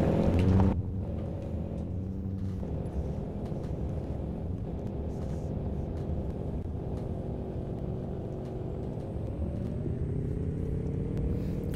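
A Nissan Titan Warrior truck drives off-road with a continuous low engine rumble and road noise, a thump at the start, then steady driving with no talk.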